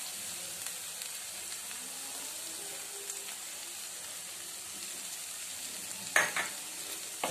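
Tomato sauce being mixed into chaat in a pan gives soft scraping stirs over a faint, continuous sizzle, with a couple of sharper metallic clinks of the spoon near the end.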